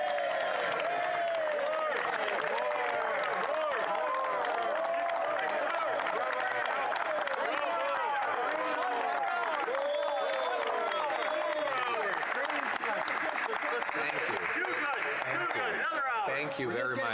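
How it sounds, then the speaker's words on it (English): Applause fills the House of Commons chamber during a parliamentary speech, a long, even wash of clapping from many members that runs for the whole stretch, with some voices and cheering mixed beneath it. "I want you to feel comfortable to interrupt my remarks with your applause at any time."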